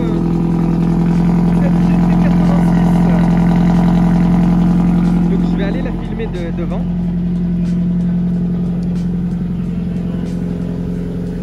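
A black Toyota GT86 with a 200-horsepower four-cylinder engine idles with a steady, loud hum and a faint shift in tone midway, while someone talks over it.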